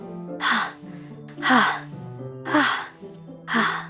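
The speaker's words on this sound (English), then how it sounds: "A sharp inhale, like someone is sucking the air through their teeth." Four sharp, breathy inhales through teeth at a regular pace in the video game Doki Doki Literature Club, close and hissing, each followed by a brief low vocal tone.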